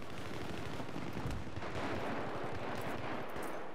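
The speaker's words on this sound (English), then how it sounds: "That's my nade." A grenade detonates in the video game Battlefield 3, a dense, rumbling burst of blast and debris that goes on through the short clip against continuous battlefield noise.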